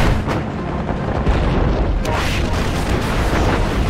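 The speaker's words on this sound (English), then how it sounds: "in the face of intense but inaccurate anti-aircraft fire, the Enterprise Avengers continue making runs on the harbor" Intense anti-aircraft fire and bomb explosions over a harbor under night air attack by carrier-based Avenger torpedo bombers, a dense continuous roar of booms and bursts with sharper blasts standing out, loud throughout.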